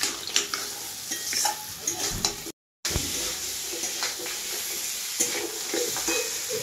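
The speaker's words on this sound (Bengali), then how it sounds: "এইভাবে কিছুক্ষণ আমি ভাজবো।" Crab curry frying in a pan on a home stove, with a steady loud sizzle throughout and occasional scraping and clinking as the pieces are stirred, close up and with no talk.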